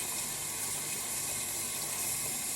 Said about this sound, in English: Then I'll add some water.